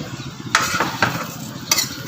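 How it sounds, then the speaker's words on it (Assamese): A knife chops onions into small pieces for a salad, giving a few irregular, sharp strikes against a soft background hiss, with no speech. "পিঁয়াজ কাটি আছে"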